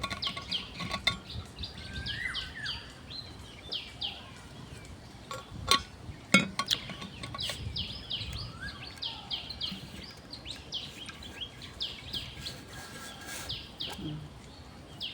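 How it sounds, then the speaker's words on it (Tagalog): Birds chirp outdoors among trees on a hot day, with many short, scattered calls at moderate distance over faint background rustle and a few sharp knocks. "puro mga ibon."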